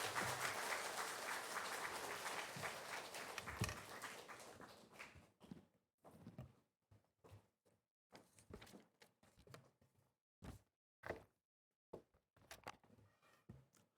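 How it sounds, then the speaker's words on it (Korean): A church congregation claps to welcome the pastor at a Sunday afternoon service, loud continuous applause for about five seconds, then dying away into scattered footsteps and isolated thumps. "목사님 나오실 때 큰 박수로 환영해 주시면 감사하겠습니다."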